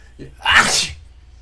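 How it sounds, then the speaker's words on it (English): A single loud sneeze bursts out sharply, with a faint intake of breath just before it, then quiet. "Soon as I sneeze one time, it's over."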